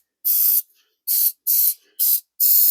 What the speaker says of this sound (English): I'm going to take some battery terminal spray and just hit those